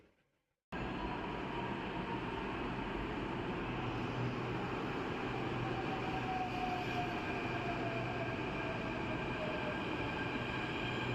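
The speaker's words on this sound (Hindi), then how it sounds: "हमारी मेट्रो आ गई है" A Delhi metro train arrives at a station, a steady loud rumble of wheels and motors starting abruptly and holding for about ten seconds, with faint squealing tones riding over it and no talking.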